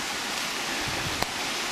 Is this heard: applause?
no